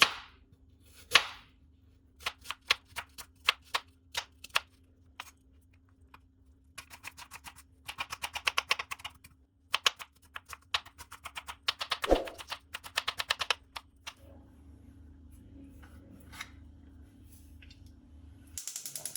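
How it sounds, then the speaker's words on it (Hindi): An onion is chopped with a knife on a board in a home kitchen. Rapid runs of sharp, close chopping taps come in irregular bursts with short pauses, and one louder knock sounds midway. "अभी प्याज को भी काट लेंगे।"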